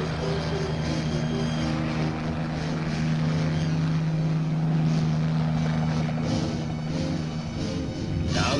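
Choctaw military helicopters pick up loads during an army airmobility exercise, their engines and rotors a loud, continuous droning roar with steady tonal whine and no talk.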